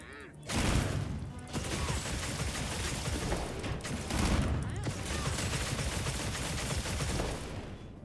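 Gunlance shelling attacks in the video game Monster Hunter Wilds fire as dense, loud explosive bursts in rapid succession, a continuous barrage of blasts with mechanical clanks mixed in, running almost the whole clip after a quiet start.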